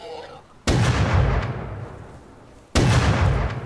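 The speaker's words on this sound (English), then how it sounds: "you just blew that pig to smithereens" Two loud, close explosions in the Rust video game as a pig is blown up, each a sharp boom with a long rumbling tail, the second arriving about two seconds after the first.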